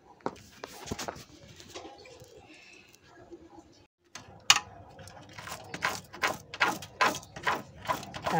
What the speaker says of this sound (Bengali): আমিষ ছাড়াই ফেলতেছি চামিচ দিয়ে।